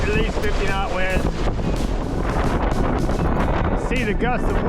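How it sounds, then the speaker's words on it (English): Strong wind buffets the microphone nonstop on a boat riding out Hurricane Helene, a loud roaring rumble with gusts near 50 knots, while people talk over it throughout. "We got at least 50 knot winds."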